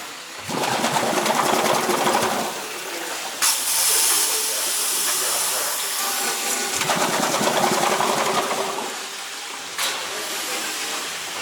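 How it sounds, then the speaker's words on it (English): A steam engine hisses and chugs continuously with a rhythmic mechanical clatter, with occasional sharp bursts of high steam hiss. "So this is the steam engine."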